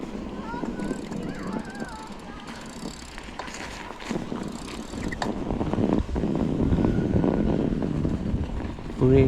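A mountain bike ridden through snow in a park, with chain and freewheel ticking and tyres crunching under a steady rolling rush, wind buffeting the microphone and a person talking.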